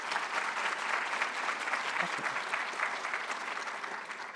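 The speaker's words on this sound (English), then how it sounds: "please give a round of applause to your incredible support system here today" Steady, dense applause from a large crowd at a white coat ceremony, sustained at an even level for several seconds with no voices standing out.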